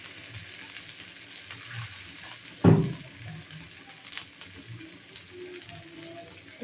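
Water hits a pan of pigeon curry with one sudden loud splash and burst of sizzling, then settles into a softer, steady bubbling fry.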